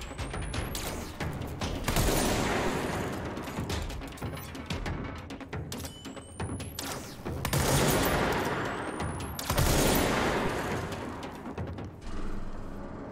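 Gunfire in the video game Control, rapid bursts of automatic shots in several volleys separated by short pauses, with whooshing sweeps and mechanical clatter around them.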